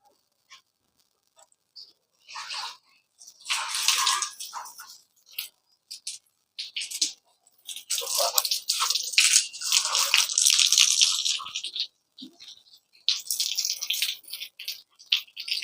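Water poured over a JSW roofing sheet on a terrace shed, splashing and pattering in uneven bursts with quiet gaps between, moderately close.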